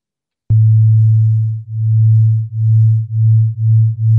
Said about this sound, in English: It's gonna be two sine tones, so very pure tones, so that you can hear it very clearly.